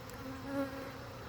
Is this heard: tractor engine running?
no